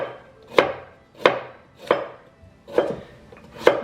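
A knife slicing carrots on a cutting board for chicken pot pie, five crisp, evenly spaced chops with brief decays, close and clear, no talking.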